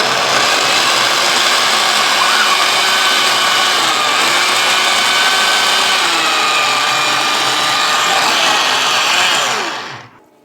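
Electric food chopper whirring steadily as it grinds onion, garlic and parsley, a loud continuous motor drone close up that runs alone for about ten seconds before cutting off.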